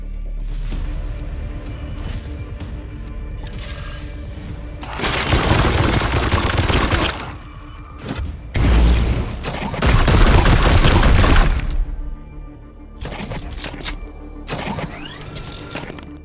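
Sustained bursts of automatic gunfire in the Warhammer 40K: Chaos Gate - Daemonhunters video game, loud rattling volleys in two or three long stretches over a steady background of game noise, with no talking.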